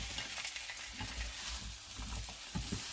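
Steaks sizzling in a hot pan just after being flipped, producing a quiet, continuous crackling fry with soft stirring or scraping bumps, no voices over it.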